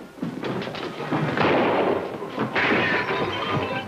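Gunfire in an old adventure film serial, heard as a dense run of loud, cracking bursts that overlap almost without pause through the whole scene, with no clear talk.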